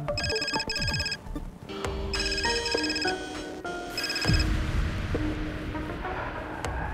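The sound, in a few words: telephone ringing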